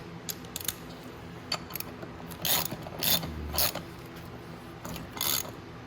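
Close mechanical clicks and brief ratcheting bursts from a socket wrench with a 17 mm socket snugging the front wheel hub nuts on a Venom 125cc mini jeep up on a lift, in short irregular runs with pauses between.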